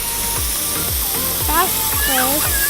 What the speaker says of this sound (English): Let's let it spray a little bit better.